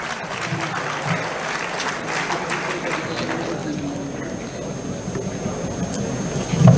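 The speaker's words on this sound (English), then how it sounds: "Let's give them a huge round of applause." An audience at a national pharmaceutical intellectual property rights conference applauds steadily, a soft, even patter of many hands lasting several seconds with faint room noise beneath.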